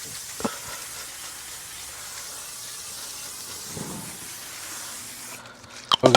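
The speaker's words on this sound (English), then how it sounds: "gonna spray this grate" A steady, fairly loud hiss of cooking oil sprayed continuously onto a hot Weber kettle grill grate, with a couple of brief knocks and a sharp clatter right at the end.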